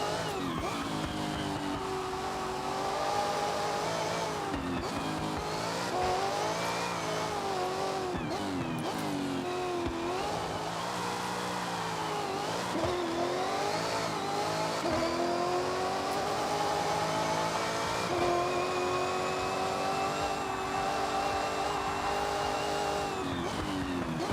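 Cars drifting in Forza Horizon, with steady loud engine drone and wavering revs overlaid by long tire squeals, continuous throughout and without talk.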